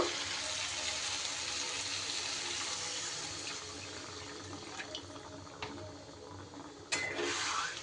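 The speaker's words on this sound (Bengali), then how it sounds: "এবার আমি জল দিয়ে দেব" Water poured into a simmering vegetable curry with lentil dumplings, a steady broadband rush of liquid filling the pot, close and fairly loud, with a few brief clinks near the end.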